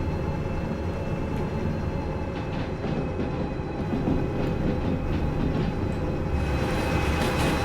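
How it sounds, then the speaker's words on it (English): Train cars and a caboose rolling along rails in the Derail Valley railway simulator, a steady dense rumble with faint rhythmic clatter throughout, no voices. "Looks like everything's moving back there. Look like our caboose is moving a little bit."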